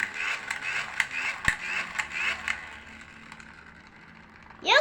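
A toy foam gun squeezed repeatedly gives a busy run of ratcheting, creaky plastic clicks with a hissy spray edge, steady for a few seconds before fading into quiet and ending with a short rising squeak.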